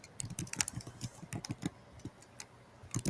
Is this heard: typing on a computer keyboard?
yes